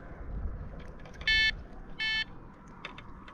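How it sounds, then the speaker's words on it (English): A carp fishing bite alarm on a rod setup gives two short, loud electronic beeps about a second apart, each ringing steadily for a moment over a low outdoor background hum. "don't worry about the alarm, because I might be just tightening it up"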